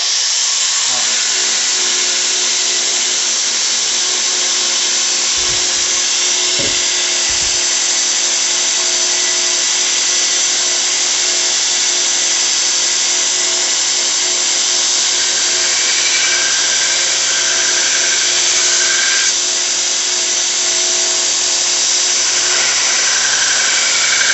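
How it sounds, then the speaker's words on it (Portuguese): A belt sander grinds a knife blade in a steady, high-pitched whine, with a few brief low knocks early on, running close and loud throughout without talk. "vou colocar a lixa para fora e vou fazer um arremate aqui, antes de ir para outra fase"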